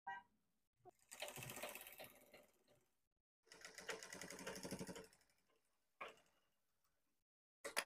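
Sewing machine top-stitching folded blouse fabric, running in two rapid stitching bursts of a second or two each with short clicks between them, close and clear with no talk.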